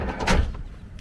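A sliding door on a 2025 Tiffin Phaeton motorhome closes with a short rolling swish that ends in a soft thud, heard up close.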